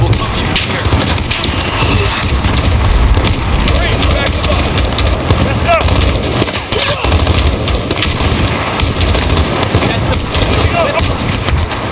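Rapid gunfire and mortar blasts from Call of Duty Modern Warfare ring out in a loud, dense battle scene, with heavy bursts and bangs continuing under shouted game dialogue.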